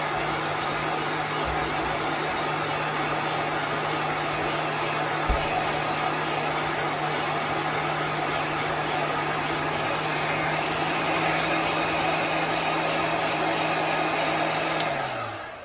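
Loud, steady blowing hum of a heat dryer used to dry chalk paste on a t-shirt, running continuously up close for the whole stretch and cutting off just before the end, with a couple of faint knocks.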